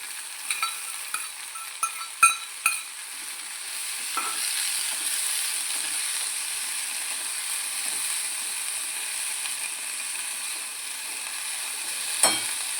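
Washed fenugreek leaves go into a pan of garlic and chilli for methi bajra vada, with a few clattering scrapes and stirs followed by a steady, moderate sizzle and a final clink, all without talk.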